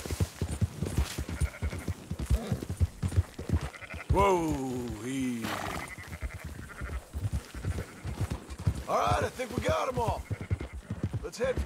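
Sheep on a ranch in Red Dead Redemption 2 bleat repeatedly with wavering cries, alongside steady clip-clop hoofbeats from a ridden horse, while people talk over the herd.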